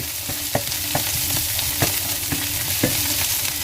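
Ham or bacon sautéing with carrot in a pan for an omelette, a loud, steady sizzle with a regular series of spatula taps and scrapes about every half second, close up and without talk.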